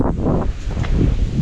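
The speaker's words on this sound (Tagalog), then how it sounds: "Lakas ng hangin." Strong wind blowing outdoors, a steady low rumbling buffet against the microphone with gusty surges throughout, no voices.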